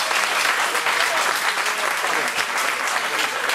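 An audience at a grape harvest festival breaks into sustained applause, a dense, even wash of clapping that holds steady from start to finish.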